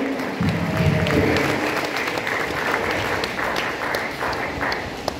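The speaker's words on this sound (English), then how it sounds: "We deserve to give ourselves one huge round of applause" A crowd applauds steadily at a Grade 10 completion ceremony, dense clapping holding at an even level throughout, with faint voices mixed in underneath.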